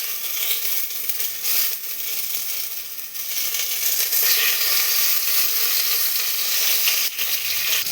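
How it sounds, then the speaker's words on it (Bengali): Ghee sizzles on a hot tawa while biryani is being made, a loud continuous frying hiss with small crackles and a brief stir or clink near the end, no voices. "এবার আমরা এর মধ্যে অল্প পরিমাণ, বেশি দেব না, অল্প পরিমাণ একটু ঘি দিয়ে নেব"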